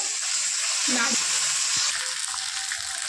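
A ground paste of ginger, green chilli and cumin sizzles in a hot pan, a steady close hiss with a brief stirring clatter, lasting a few seconds.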